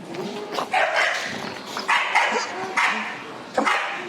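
Dogs at a kennel give a few short barks and yips amid loud background chatter and someone talking to a dog.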